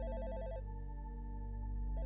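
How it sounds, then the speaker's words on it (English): An office telephone in a corporate cubicle trills electronically in two clear bursts over a steady low hum, with no talking. "Then a phone rang in a corporate cubicle."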